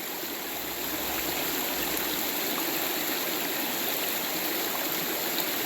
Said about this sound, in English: This is Sandy Creek.